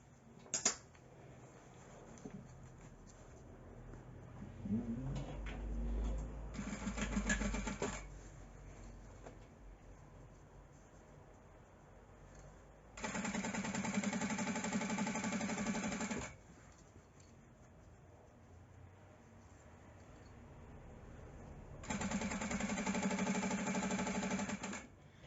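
Sewing machine stitching fabric for a thermal lunch bag, running in two sustained bursts of a few seconds each, with quieter handling and adjustment noises between them.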